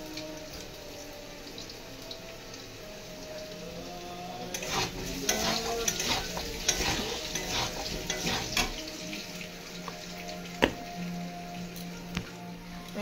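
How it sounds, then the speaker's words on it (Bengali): Potatoes frying in a wok on a home stove, with a steady sizzle that swells into busy stirring and scraping midway, then settles back with a few sharp clanks of the utensil against the pan. "দেখো অলরেডি আমার আলু ভাজা হয়ে গেছে"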